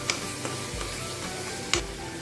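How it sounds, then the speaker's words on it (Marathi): Mutton masala with onion-tomato paste, turmeric and chili powder fries in oil, a soft continuous sizzle with a few light clicks of a spoon stirring the pan. "मसाले छान भाजून घेतले"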